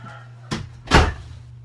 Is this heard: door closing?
yes